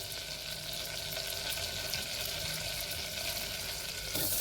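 Two small bay leaves sizzle in a spoonful of butter inside a pressure cooker, a continuous, dense frying hiss that stays even and fairly close, growing slightly brighter near the end, with no speech.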